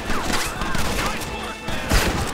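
Gunfire in a shootout in the video game Red Dead Redemption, rapid overlapping shots and impacts crackling together with game sound, loud and continuous, with a brief lull before another burst.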